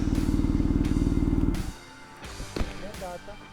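A BMW R nineT Paris Dakar motorcycle, a Unit Garage kit build, throbs with an even, rapid low engine pulse for a moment before it cuts off. Voices and faint noises follow.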